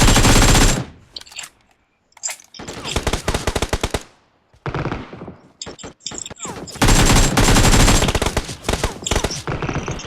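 Bursts of automatic gunfire and rapid shots crack out in loud volleys, pausing briefly between sustained runs of fire.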